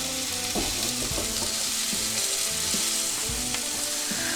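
Onions fry in a pan for a Gozitan ftira topping, a constant close sizzle with periodic soft knocks and scrapes as they are stirred, no talking.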